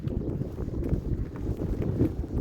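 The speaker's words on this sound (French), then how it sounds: "Et ce vent de face est très pénible." Strong headwind roars steadily across the microphone on a walking route near Fuente de Cantos, Spain, a dense continuous low rumble of buffeting gusts with no voices.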